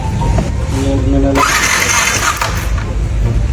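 Starter of a motorcycle idle for five months, cranking close and loud with a whirring, chugging attempt that does not catch, and a voice talking over it.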